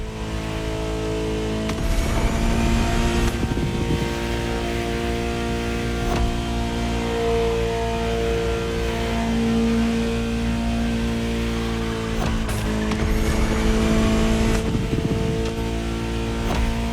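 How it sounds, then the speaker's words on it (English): A high-revving Ferrari supercar engine in a video game drones with a steady harmonic whine, rising and shifting gears several times, loud and continuous without any talk. "Just listen to the car you're driving."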